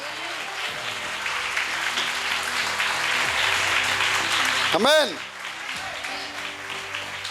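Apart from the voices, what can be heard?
church congregation applauding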